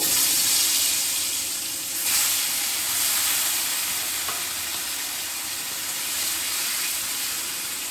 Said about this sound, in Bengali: এইবার আমি পুঁটি মাছগুলো ভাজতে দেব